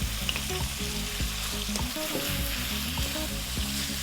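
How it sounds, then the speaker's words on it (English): Chopped garlic and onion frying in a pan with lamb and vegetables, a loud continuous sizzle broken by steady scraping and stirring strokes, with no voices. "I'm going to drop in a tablespoon of garlic, chopped garlic, 1 onion or a cup of onions"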